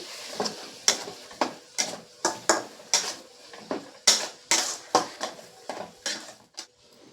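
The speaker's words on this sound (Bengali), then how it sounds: "দিয়ে এবার মশলাটাকে কিন্তু কষিয়ে নিতে হবে" Spice paste stir-fried in a pan with chicken and raw mango, heard as a regular series of sharp scraping and clanking spatula strokes against the pan over a faint sizzle, close and without talk.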